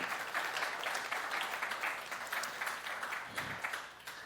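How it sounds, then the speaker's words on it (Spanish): Church congregation clapping loudly and rhythmically in praise during a Spanish-language service, a lively patter of many hands with uneven peaks, fading slightly toward the end. "Vamos a darle palmas fuertes a nuestro Señor"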